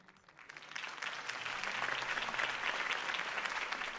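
Steady crowd applause swells and holds as a dense wash of many clapping hands, following a campaign speech by Harvey Dent in a Batman video game.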